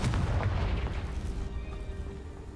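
An explosive Confringo spell blast in Hogwarts Legacy, a loud booming burst with a deep rumbling body that decays over a couple of seconds, heard alone.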